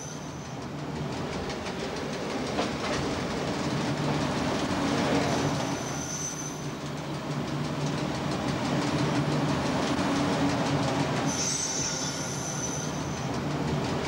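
A 1992 Ferrovia Centrale Umbra train rolls steadily along the rails from Sansepolcro with a continuous rumble, occasional wheel squeals and faint rhythmic clacking.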